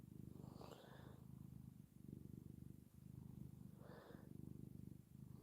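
Cats purring close by in a quiet room, a steady low rumbling purr that pulses with each breath, faint and continuous with no talk.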